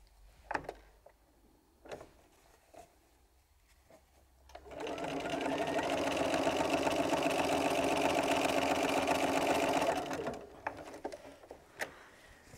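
A sewing machine stitches jelly roll quilt strips in a chain, one continuous run of steady whirring and needle clatter lasting several seconds, close and alone, with light handling taps before and after.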